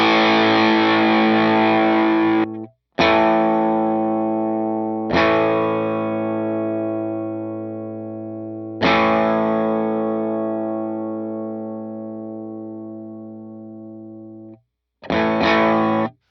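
Electric guitar played through an HX Stomp compressor rings out in long, sustained chords with a distorted, effected tone, struck about five times, each strum decaying slowly, close and loud with no voices.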